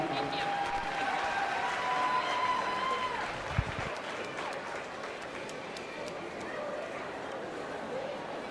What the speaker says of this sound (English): Give those kids a round of applause.